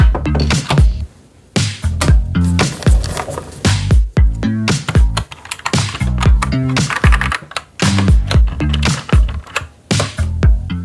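A mechanical keyboard being reassembled, with a keycap pressed onto the caps lock switch: a rapid run of sharp plastic clicks and clacks, close and loud, over a steady low background tone.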